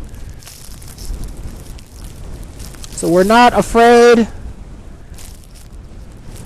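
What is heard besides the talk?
strong wind gusts in a snow storm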